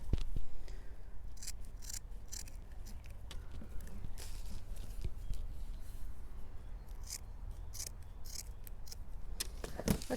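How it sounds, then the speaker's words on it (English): Scissors snip through burlap ribbon on a hand-tied supermarket flower bouquet, a run of short crisp cuts and rustles close up, with quiet handling noise between the snips and no talking. "I'm just going to cut that burlap off at an angle."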